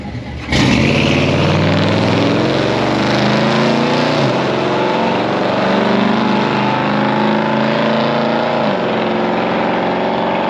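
A 1959 Chevy Bel Air with an LS engine launches hard at the drag strip, a sudden loud engine roar swelling into a sustained high-revving pull that holds strong and close for about ten seconds with no talk.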